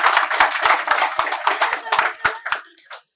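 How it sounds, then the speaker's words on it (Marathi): An audience claps at a Marathi prize-giving ceremony for a home Ganpati decoration contest, giving a ragged burst of hand claps in uneven rhythm that thins out and stops near the end, with talk mixed in. "यांच्यासाठी जोरदार टाळ्या"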